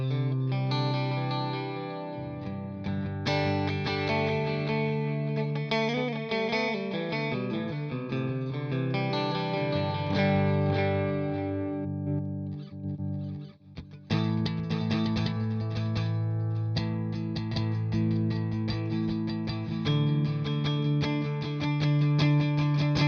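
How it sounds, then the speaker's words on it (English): Electric guitar through a pedalboard with delay and reverb plays sustained, shimmering chords with long echoing tails, continuous and full, with a brief drop and swell near the middle before ringing on. "then we come out of that into the delay and reverb"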